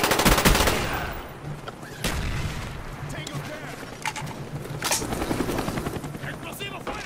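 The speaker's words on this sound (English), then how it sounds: "Wish the helicopter would go away so I can launch mine." Helicopter circling over a Call of Duty Black Ops multiplayer match, a steady low rotor thump under bursts of gunfire and explosions, with a voice talking over the action.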